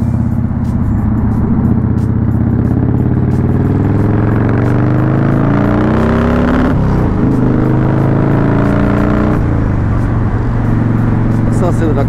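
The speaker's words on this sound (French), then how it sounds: "Ça c'est de l'accélération. Avec un petit rupteur au passage." A motorcycle accelerates hard, its loud engine note climbing steadily through the gears with a brief stutter as it touches the rev limiter, set against continuous wind and road roar.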